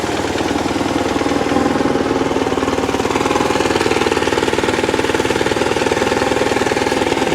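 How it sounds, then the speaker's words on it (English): A cruiser motorcycle with a hydraulic clutch sits running with a loud, steady, rapid-pulsing engine note that swells slightly as it is revved, alone without speech. "Give it a little bit of a rev up."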